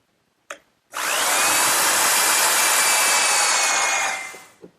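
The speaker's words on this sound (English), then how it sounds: "to drill the hole, I'm just going to use a 1/4 inch brad point bit" A power drill with a 1/4 inch brad point bit whines loudly and steadily for several seconds, close by, starting and stopping abruptly.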